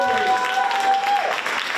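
A debate audience applauds a VP Media candidate, thick steady clapping across the hall, with a thin sustained tone ringing over the first part before fading.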